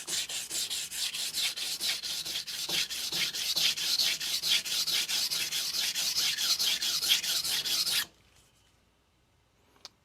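Long, steady strokes of a knife blade across a 400 grit sintered diamond sharpening stone, a rapid rhythmic rasping scrape with no pause for about eight seconds, close and fairly loud, then stopping abruptly into near silence.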